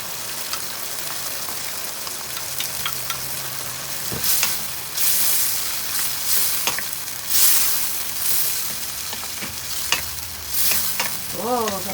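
Garlic sautéing in a non-stick pan for beef salpicao: a loud, constant sizzle and crackle with occasional spatula scrapes and knocks, close up, with no talking.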